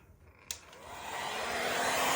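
A heat gun blows hot air across a multi-layer resin pour, starting with a sharp click and then rising into a steady, building airflow roar that grows louder and fills the rest of the moment, close by with no talking.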